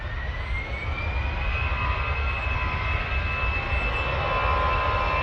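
An Aer Lingus airliner's jet engines roar steadily at Manchester Airport, a sustained loud rumble with a rising whine heard from a distance, no voices over it.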